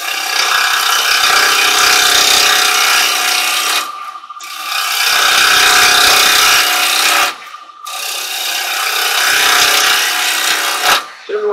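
A carbide chisel cuts a silver birch bowl on a wood lathe. Loud, hissing, scraping cutting passes come in three long bursts separated by short quiet gaps, close up with no speech.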